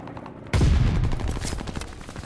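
Rapid gunfire bursts loud and close in a World War II-style shooter game with a Tommy gun, starting abruptly after a quiet moment and continuing as dense overlapping shots.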